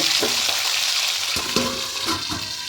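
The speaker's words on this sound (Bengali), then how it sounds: "মাছগুলো একদম ভাজা হয়ে গেছে" Fish fries in oil in a covered pan, giving a continuous crackling sizzle broken by a few soft knocks and clatters of the lid or utensil.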